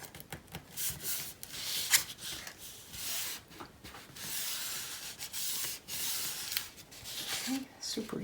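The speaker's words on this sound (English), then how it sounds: "Just burnish, make sure everything's good." Paper layers of a mini album being burnished by hand, a steady dry rubbing and scraping with short strokes, close and fairly quiet, with a brief louder swipe early on.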